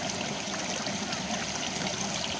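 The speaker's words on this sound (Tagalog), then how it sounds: "itong tubig na to, papunta na to sa sakahan" Continuous broadband rush of water flowing down a channel toward farm fields below, steady and fairly loud with no clear talk over it.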